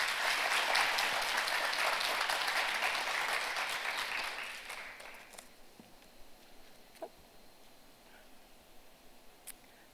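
A conference audience at an international finance event applauds in a dense, steady wash of clapping for about five seconds, then it thins out and fades to scattered faint sounds.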